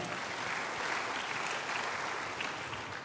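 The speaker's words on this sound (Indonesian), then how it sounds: "Berikan tepuk tangan bagi Tuhan." A church congregation gives a loud, sustained round of applause in praise of God during a sermon, with thick, continuous clapping filling the hall from start to finish and no voices over it.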